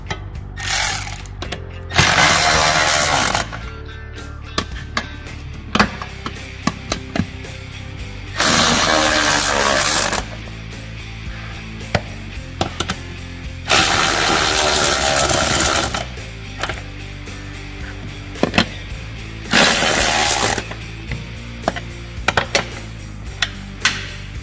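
Ratchet wrench tightening the last bolt of a roll bar in a 1993 Foxbody Mustang convertible, loud bursts of rapid clicking separated by pauses filled with short metallic clanks, close and alone.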